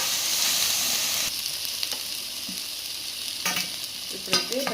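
Ginger-garlic paste is added to golden-brown onions frying in a pan for a mutton liver fry. A loud, steady sizzle runs throughout, with a few scraping stirs and clinks and no talking.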